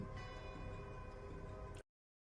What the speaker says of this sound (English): Bell tolling.